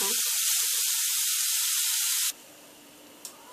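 Grated beetroot for halwa cooks in a pan with a loud, even hiss that holds steady for about two seconds, then cuts off abruptly, leaving only faint background noise.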